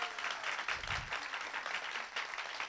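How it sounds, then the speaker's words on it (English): Audience applause at a poetry recitation competition, greeting the runners-up: a steady wash of clapping from a crowd, fairly faint and distant, lasting the whole short stretch without talk over it. "Let's first have a round of applause for our runners-up."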